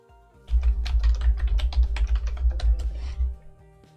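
Keys clatter in a quick, close burst of typing on a computer keyboard as a search is entered, about three seconds of rapid clicks with no voice over them.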